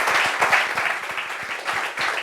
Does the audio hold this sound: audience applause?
yes